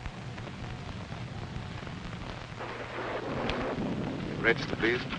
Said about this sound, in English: It's liable to rain all night.